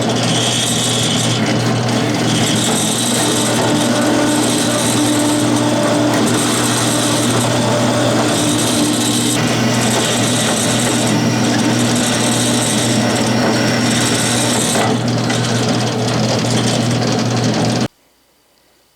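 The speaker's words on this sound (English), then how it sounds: "this is the setup on the bandsaw for sawing it off" A bandsaw cuts a steel bar, the stock for a milling arbor shank, with a steady, loud mechanical whir and rattle that runs without a break for about eighteen seconds, then stops abruptly.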